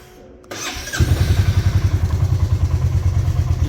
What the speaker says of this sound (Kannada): ಗಾಡಿ ವಾರ್ಮ್ ಅಪ್.